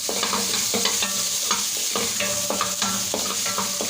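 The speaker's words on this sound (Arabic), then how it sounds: "هشوحها شويه قبل ما احط الزيت عشان تسيح كده" Meat sears in a very hot pan before oil goes in, heard as a continuous close sizzle with repeated scraping and stirring strokes at a fairly regular rhythm. No speech is heard.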